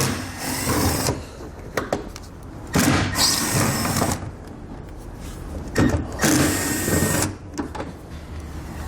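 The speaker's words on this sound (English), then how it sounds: "So I'm going to take a T15 Torx bit. I'm going to remove these 3 Torx screws here." A T15 Torx bit on a power driver backing out screws during a truck-bed installation of a B and W Companion fifth wheel underbed kit on a 2021 Chevrolet, heard as loud whirring bursts repeated several times, close and alone.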